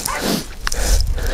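A large Anatolian shepherd dog gives a couple of deep, loud barks at close range, with a brief pause between them and a low rumble of background noise outdoors.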